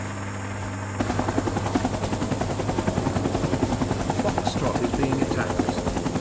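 A helicopter's rotor thumps in a fast, steady pulse, loud and close, starting abruptly after a moment of quieter hum, in the video game Rising Storm 2: Vietnam.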